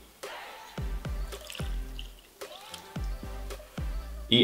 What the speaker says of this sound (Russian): добавляем на 3 чашки гороха, добавляю 2 чашки воды.